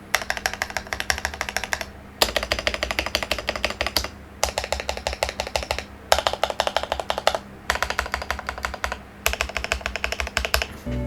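Rapid, crisp key clatter from an IQUNIX F97 mechanical keyboard with freshly lubed switches and Costar stabilizers, typed in bursts of about two seconds separated by short pauses, with a fan humming in the background.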